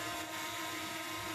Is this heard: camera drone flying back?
yes